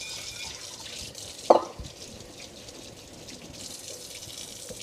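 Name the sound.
warm water running from kitchen tap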